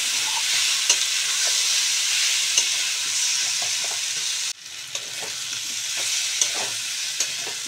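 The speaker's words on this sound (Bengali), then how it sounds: "দিয়ে এটাকে আমি এখন ভালো করে কষিয়ে নেবো, একদম মশলার সাথে ভালো করে ভাজা ভাজা করে নেবো।" Ground spices sizzle steadily in hot oil in a pan as they are fried for a kosuri prawn curry, with soft scraping clicks of stirring throughout and a brief cut midway.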